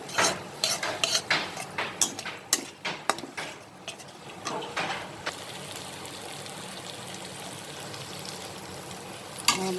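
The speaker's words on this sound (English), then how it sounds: "salt, and we'll now saute this for another 2 minutes." Onion-spice masala with salt sautés in a pan for a pointed gourd dish, with a soft steady sizzle under a quick run of spoon scrapes and clanks against the pan that then fades to gentle frying.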